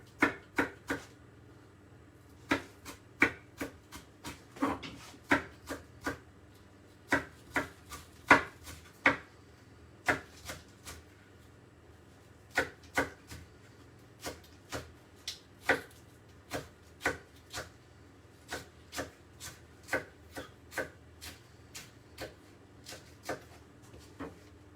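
A knife thinly slices a vegetable on a board, making a long run of crisp, closely spaced taps, at times in quick bursts, close and clear with no voices.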